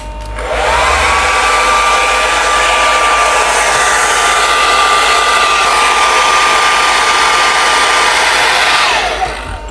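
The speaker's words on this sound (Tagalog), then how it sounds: "And then, i-blower ko na siya. Nag-blower lang ako ngayon kasi matutulog na ako." A hair dryer blowing on hair, switching on with a rising whine, then roaring steadily at close range for several seconds before cutting off.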